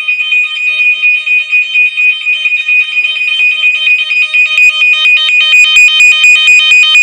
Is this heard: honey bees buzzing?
no